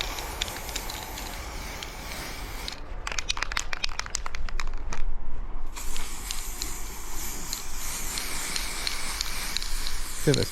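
Spray can applying red oxide primer to rusty non-genuine Royal Enfield motorcycle parts, a close, loud continuous hiss of aerosol paint in long bursts with brief pauses between passes.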